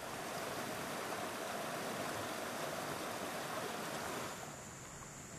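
River water flowing steadily at Sungai Air Santan in Lebong, a broad continuous rushing wash that holds even and fairly close, then drops slightly softer near the end, with no voices.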